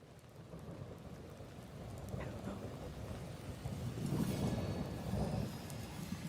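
Steady rain with rolling thunder in a video game trailer, a constant hiss of rainfall under low rumbles that swell and grow louder midway, with no speech.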